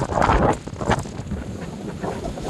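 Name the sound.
wind blowing on the microphone outdoors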